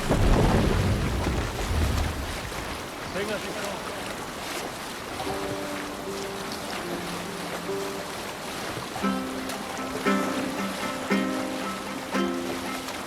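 A Viking longship sails in Assassin's Creed Valhalla. Rushing water and wind wash steadily around the hull after a louder surge at the start, with a tonal musical melody rising over the waves partway through.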